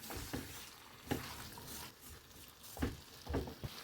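Spice mix with sugar, dried fenugreek leaves, black salt and salt is stirred into a potato and pea curry in a pan, giving soft scraping strokes over a faint sizzle, close and quiet, with no talking.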